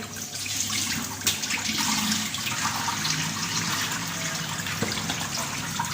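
Cold water pours and splashes steadily over cream for several seconds, a continuous rushing gush close by, with no voices.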